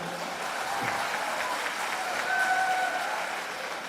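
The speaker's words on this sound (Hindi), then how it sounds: "आप तालियों से इस्तकबाल करें।" Audience applause welcoming a poet at a Bangalore mushaira, a sustained, even patter of many hands from a large gathering, somewhat distant and reverberant, with faint tonal hints underneath.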